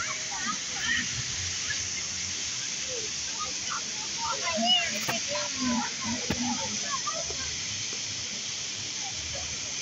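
Water pours at a reservoir spillway in a steady, moderate rushing hiss. Faint voices and a few bird chirps are heard behind it.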